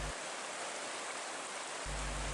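Rushing river water at about one meter deep in Dusun Moncongan, Gowa, as health workers wade across the strong current; a steady, dense broadband roar fills the clip with no voices.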